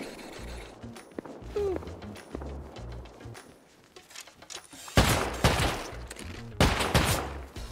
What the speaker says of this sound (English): Gunshots are near me.